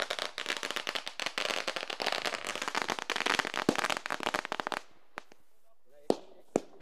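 Rapid, dense crackling of firecrackers and fireworks at a cricket tournament opening ceremony, a continuous loud barrage for several seconds that then thins to a few scattered sharp bangs.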